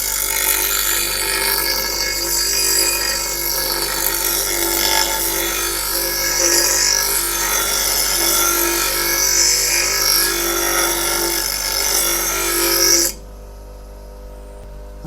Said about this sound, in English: This blade isn't too bad, so I just need a little run over with the grinder.